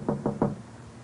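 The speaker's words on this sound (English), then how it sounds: "Now back to Mr. Keene, who is knocking on the door of a cottage near the Mead estate" Knocking on a cottage door in an old radio drama, three firm, evenly spaced raps, close and hollow-sounding, followed by a short stretch of quiet room tone.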